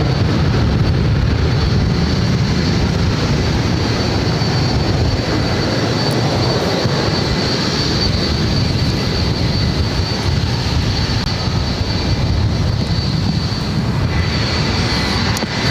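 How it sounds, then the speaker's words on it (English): A Boeing 737-900ER jet takes off at LAX, its engines producing a loud, steady, broadband roar that fills the whole stretch without letting up. "Airlines 2606 taking off to Seattle on a 737-900ER."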